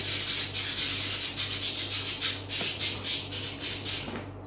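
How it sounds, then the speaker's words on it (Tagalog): Two pet birds fighting give harsh, repeated squawks in quick pulses, fairly close, with a scratchy rasping quality and no talking. "Ang ingay ng aking alagang ibon. Nag-aaway sila."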